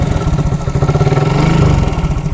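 A motorcycle engine idles close by with its exhaust pipe feeding a balloon, a loud, steady, rapid putter of firing pulses with a slight rise in revs near the end.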